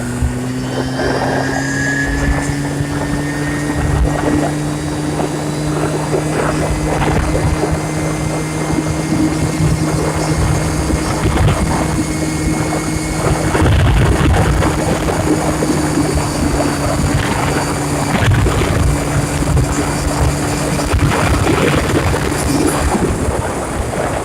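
A two-stroke motorcycle engine fitted with an aftermarket exhaust, held at full throttle on a straight, level road, gives a loud, steady, high-pitched drone that stays constant and close throughout.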